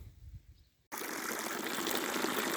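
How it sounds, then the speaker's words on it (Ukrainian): Water running steadily from a quiet pond filter pump, a continuous close gushing and trickling that starts abruptly and then holds even, with no talk. "Насос тихенький, лише тільки чути, як біжить вода."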